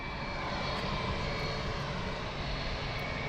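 A business jet taxiing at London Luton Airport gives a steady, continuous engine roar with a faint high whine, moderately distant and unbroken for the whole stretch, with no voices.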